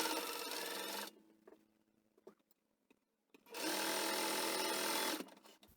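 A sewing machine stitches a plastic-coated zip pouch with a backstitch at the start and end, two steady whirring runs of about a second each, close, separated by a pause filled with faint clicks and handling.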